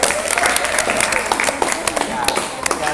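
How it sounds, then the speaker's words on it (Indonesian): A class audience claps together in a brief burst of quick, dense applause at close range, with a voice speaking over it. "tepuk tangan buat Mas Topan."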